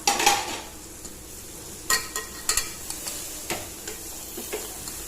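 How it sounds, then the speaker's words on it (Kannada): A spoon stirs and scrapes onion curry for an irekai palya in a pan, giving sharp clinks and scrapes at an irregular pace over a soft sizzle, close up with no talking. "ಈಗ ಅದನ್ನ ಚೆನ್ನಾಗಿ ಮಿಕ್ಸ್ ಮಾಡ್ತಾಯಿದ್ದೀನಿ"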